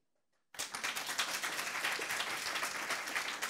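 An audience at a conference talk on new narratives and innovation breaks into sudden applause after a brief silence, dense even clapping that continues steadily without speech.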